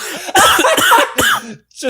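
A few sharp, harsh coughing bursts close by, with a short pause and a final quieter throat sound at the end.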